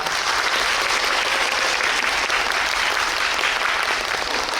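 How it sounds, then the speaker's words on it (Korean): Audience applause fills a hall at the close of a guest-visit session at the Jecheon International Music & Film Festival music video awards: dense, steady, sustained clapping from a large crowd throughout. "여러분 박수 부탁드립니다."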